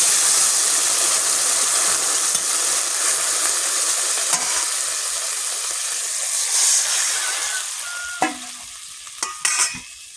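Fish and potato curry bubbles and sizzles in a pan, a constant loud hissing fry with gentle stirring, then a few sharp clatters and scrapes near the end; no voices.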